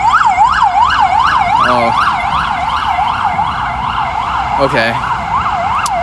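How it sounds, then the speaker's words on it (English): An ambulance siren in city traffic, a fast, loud yelping wail cycling steadily and close, with brief horn-like blasts; a voice speaks briefly over it. "There's an ambulance coming up."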